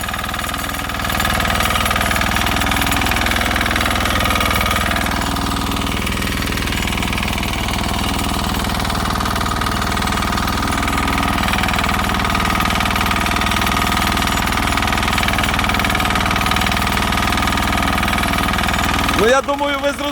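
A vehicle engine drones loud and steady as it revs with spinning wheels while stuck in a peach orchard, and a voice speaks over the constant roar.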